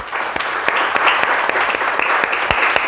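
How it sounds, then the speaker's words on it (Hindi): A church congregation claps loudly to welcome the Lord at an Easter service, a dense, steady wash of clapping with sharper individual claps standing out. "जोरदार प्रभु को ताली के साथ स्वागत करो"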